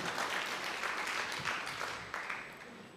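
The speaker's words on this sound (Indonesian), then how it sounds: "Yang setuju berikan tepuk tangan yang meriah buat Tuhan" A church congregation breaks into a round of applause during a sermon, with steady, fairly distant crowd clapping that tapers off slowly.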